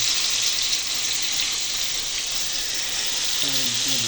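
Lentil piyaju fritters frying in hot oil, a steady dense sizzle throughout with a brief faint voice-like tone near the end.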